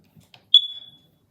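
A smoke detector being tested gives a single sharp high-pitched beep that trails off after about half a second, preceded by faint clicks, alone in a quiet room.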